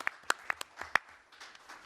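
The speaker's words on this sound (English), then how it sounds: "Let's applaud all New Yorkers" Scattered clapping from a small audience at a New York Covid-19 press briefing, a handful of sharp, distinct claps spaced irregularly, fairly close, without any voices.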